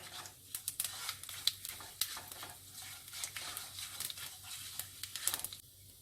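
Achari masala, kalonji, fenugreek seeds and fennel fry in hot oil, giving a soft crackling sizzle broken by irregular scraping stirs and small pops, fairly quiet and close, with no talking.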